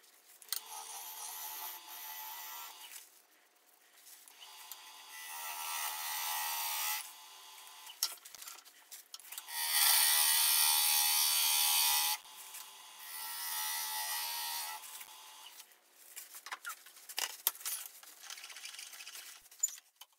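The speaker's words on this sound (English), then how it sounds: "This blank is cutting very nicely." Butternut bowl blank spinning on a wood lathe as the gouge cuts, giving bursts of hissing, scraping shavings separated by short pauses, close and steady with no talk.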